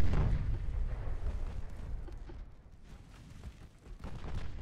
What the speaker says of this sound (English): And here comes more 18-inch high explosive.